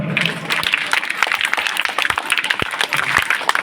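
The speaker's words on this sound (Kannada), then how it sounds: "ಜೋರಾದ ಚಪ್ಪಾಳೆ ಎಲ್ಲರೂ ಕೂಡ" Audience applause at a news channel's second anniversary celebration with an honours ceremony and music, a steady spatter of many hands clapping close by with a few sharper individual claps, sustained throughout.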